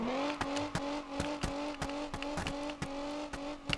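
A custom car in the video game BeamNG drives along with a steady droning engine note, interrupted by regular sharp clicks or thumps roughly every third of a second, fairly quiet and unbroken.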